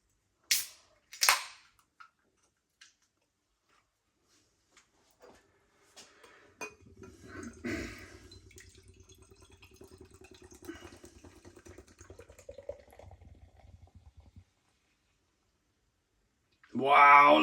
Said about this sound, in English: let's get this beer out into a glass,